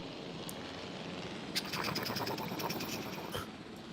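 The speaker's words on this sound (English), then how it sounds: "It's so loud in this helicopter" A helicopter in a video game gives off a steady, close rotor drone and whir that runs without a break, with a few light clicks and scrapes over it.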